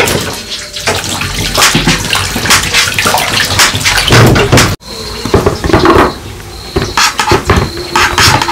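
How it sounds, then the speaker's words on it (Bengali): Vegetables being washed under running water at an outdoor picnic cooking spot, with a loud, close splashing stream, handling of pots and containers, and a brief break in the flow midway. "বন্ধুরা এবার সবজিগুলো ধুয়ে নেবো।"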